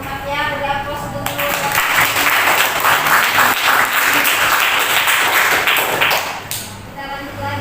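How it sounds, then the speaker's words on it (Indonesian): A classroom of students breaks into loud, sustained clapping for a group's answer, lasting several seconds before fading, with a voice speaking briefly before and after. "Beri aplaus dulu"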